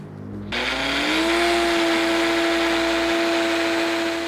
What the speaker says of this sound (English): we're gonna put that into our blender